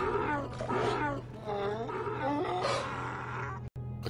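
An ancient droid in the KOTOR video game speaks an alien language in a loud, continuous, growling roar-like voice that resembles a Wookiee, with varied pitch sweeps, a brief break near the end, then resuming.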